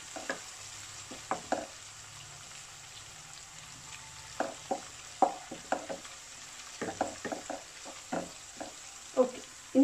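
Ginger, green chilli, garlic and curry leaves frying in oil for a prawn roast, a soft steady sizzle broken by repeated clinks and scrapes of a spoon stirring the pan.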